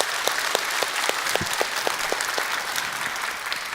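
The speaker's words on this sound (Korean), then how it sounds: "우리 하나님께 영광의 박수를" A church congregation applauds, a steady wash of many hands with a regular clapping pulse, loud and sustained from start to finish.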